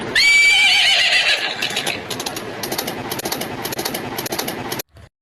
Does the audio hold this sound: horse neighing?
yes